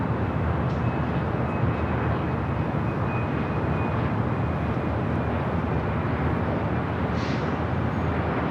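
A jet airliner at Los Angeles LAX airport produces a loud, steady engine roar that fills the whole stretch without letup, with no voices over it.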